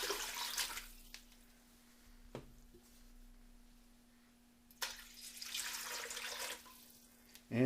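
Water splashes into a pot in two short pours for a batch of herbal Essiac tea, quiet and close, with a faint steady hum and near-silence in between.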